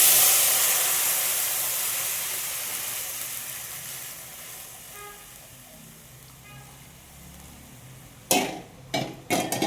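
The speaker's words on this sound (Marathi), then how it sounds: "दुधाला छान उकळी येऊन घेतली." Milk heats toward a boil in a pot on the stove for sabudana kheer: a steady hiss that slowly fades, then a few short, sharp bursts of bubbling near the end.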